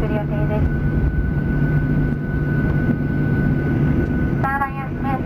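An ANA airplane cabin taxiing to the gate at Osaka, a steady loud engine rumble and hum filling the space, with a cabin announcement voice heard over it and a brief chime near the end.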